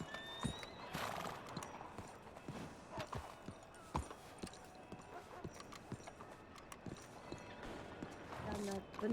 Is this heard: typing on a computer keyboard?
no